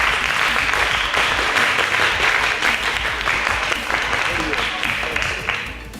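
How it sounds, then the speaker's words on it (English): An audience at a high school quiz competition applauds a correct answer, loud, sustained group clapping filling the room for about six seconds before tapering slightly at the end. "Correct. A round of applause."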